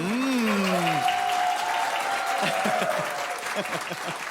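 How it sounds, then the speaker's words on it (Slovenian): A studio audience breaks into lively applause, opening with a rising whoop before the steady clapping thins out toward the end. "Ta aplavz veliko obeta"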